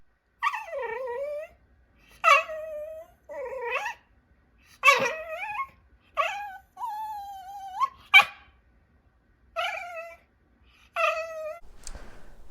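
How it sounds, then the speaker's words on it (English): At a parents' house, a dog lets out a series of about nine separate whiny, yelping barks and whimpers, each drawn out and pitched high, spaced by brief silences, close and moderately loud with no talking. "This is my dog at my parents' house just throughout the day."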